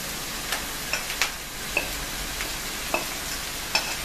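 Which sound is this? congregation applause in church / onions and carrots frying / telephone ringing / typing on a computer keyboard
onions and carrots frying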